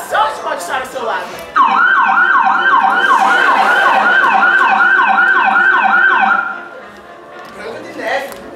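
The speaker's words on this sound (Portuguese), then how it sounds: "Branca de Neve, essa sirene indica que chegou a hora da questão relâmpago!" A loud wailing electronic siren sound effect, used as a game-show cue for a lightning question in a theatre piece, rises and falls steadily for about five seconds between stretches of talking.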